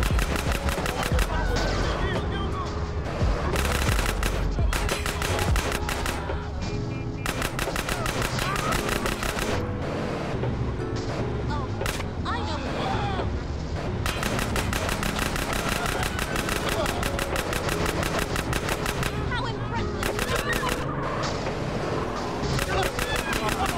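Drive-by shooting in GTA: San Andreas, with dense, continuous automatic gunfire and heavy crackling shots running nearly throughout, mixed with game noise and people shouting over it.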